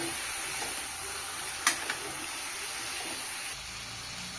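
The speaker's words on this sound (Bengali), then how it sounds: "মশলা কষিয়ে নিয়েছি। ম্যারিনেট করা চিকেন দিয়ে দেবো। চিকেন দিয়ে সুন্দর করে কষিয়ে নেব।" Marinated chicken sizzling in a pan of tomato and spice masala, a steady bright hiss of frying with a couple of brief crackles and pops, no talking.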